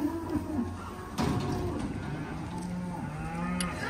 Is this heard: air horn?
no